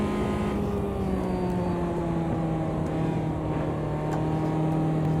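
A race car engine in the Automobilista 2 racing game revs and pulls under acceleration, a loud steady drone with rising tones that continues without any voices.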